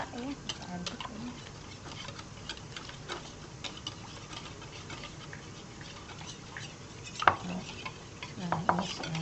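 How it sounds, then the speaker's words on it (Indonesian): Cake batter gets stirred until smooth in a bowl, giving soft, continuous scraping and light clicking taps with a few sharper knocks, faint and close, while a person talks over it. "Aduknya kita aduk ini sampai rata ya, kita aduk ini."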